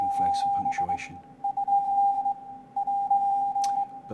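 A Royal Navy learning app plays a rapid string of Morse code beeps, a single steady tone keyed in short dots and longer dashes in three grouped bursts, with a voice talking over the opening.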